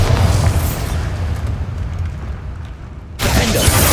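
A Bombarda spell blast in Hogwarts Legacy sets off a loud, deep boom whose rumble rolls on for about three seconds, then breaks off sharply and gives way to a fresh burst of bright crackling noise.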